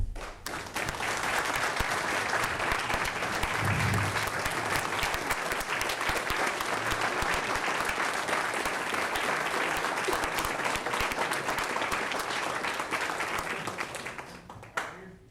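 Sustained audience applause fills a school board meeting room, steady dense clapping from many people lasting about fourteen seconds before tapering off, with a brief low murmur of voices early on.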